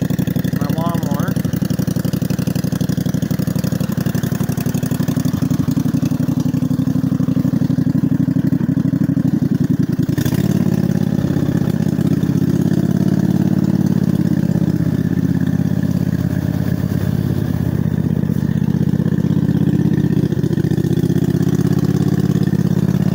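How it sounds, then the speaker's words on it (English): A lawnmower converted into a mud mower runs through a flooded swamp, its engine chugging loud and steady nearby for the whole stretch, with rising and falling revs and a voice speaking over it. "My lawnmower."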